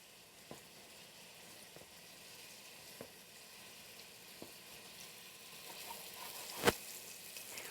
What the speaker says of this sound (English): I can hear the sizzle from the balls